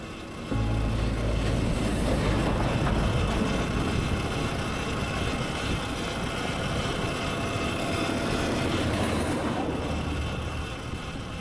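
A steady, heavy mechanical rumble with a broad hiss from a coal-hauling steam train at a mine in Sandaoling, China, runs unbroken for several seconds, like a large engine working close by.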